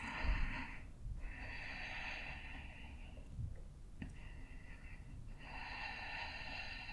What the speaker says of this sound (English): Take 3 more deep breaths